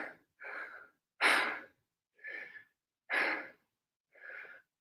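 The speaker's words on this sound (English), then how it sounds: "I'm also breathing hard from those squats." Heavy, labored breathing after a set of squats during a living-room workout: six loud breaths in a row, alternating strong and softer exhales, close and alone with no talk.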